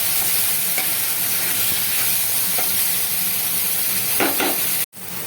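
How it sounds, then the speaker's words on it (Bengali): Hog plums frying in oil with five-spice seeds over a high flame, a loud steady sizzle with occasional stirring clinks and scrapes, briefly dropping out near the end. "হাই ফ্লেমে রেখে আমড়াগুলোকে একটু তেলের সঙ্গে পাঁচফোড়নের সঙ্গে ভেজে নেব"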